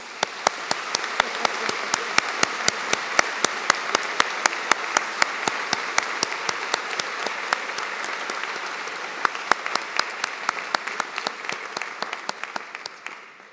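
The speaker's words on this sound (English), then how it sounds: "Please join me now in a round of applause." An audience at a university convocation applauds steadily in a large hall, with a dense patter of many hands and some sharp individual claps standing out, fading slightly near the end.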